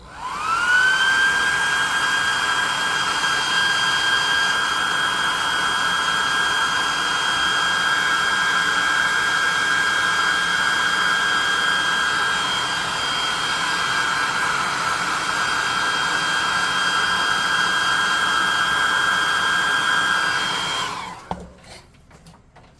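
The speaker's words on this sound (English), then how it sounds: "Let's get the +2 hot air gun burning." A hot air gun blows a steady, loud whine and rushing hiss for about twenty seconds while drying paint on a gray-rendered tabletop gaming piece, then cuts off abruptly near the end, with no voices.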